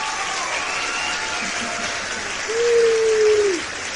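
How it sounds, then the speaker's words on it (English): Steady applause hangs in the background throughout, and near the end a single voice cheers with a sustained 'woo' over the top. "I have to give you a nice cheer."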